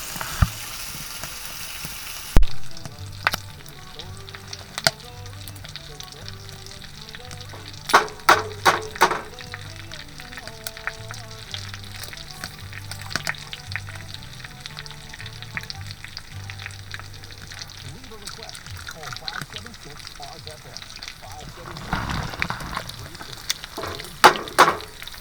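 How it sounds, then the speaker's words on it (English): Bacon sizzling and crackling in a pan while winter camping in Newfoundland, with a low hum early on and scattered pops and clatters over a long stretch; no talking. "until the bacon started frying"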